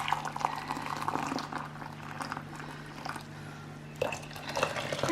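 Water pouring into a container for homemade hand soap, a continuous close bubbling gurgle with sloshing that swells again near the end over a low background hum.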